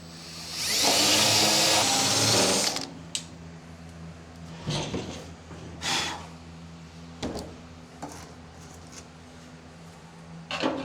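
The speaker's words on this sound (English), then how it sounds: "Can also drill a pilot hole" A loud power drill drilling a metal panel on a 1930 car firewall whines for about two seconds, then stops, followed by scattered clunks and knocks of handling metal.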